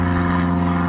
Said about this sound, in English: Sorry for the airplane flying over my head.